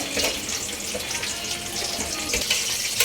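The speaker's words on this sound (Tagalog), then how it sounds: "Kulong-kulo na yung ating butter shrimp." A steady bubbling hiss of butter shrimp boiling in a pan, a dense watery simmer that stays even throughout with no talking.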